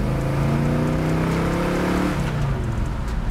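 A 1967 Chevelle with a 454 cubic inch V8 pulls hard in first gear, its deep exhaust roar sustained and loud throughout, with the engine note sweeping upward as it accelerates.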